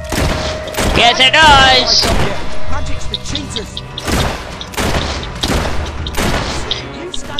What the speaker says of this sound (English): Yeah, well, I'm using a gun.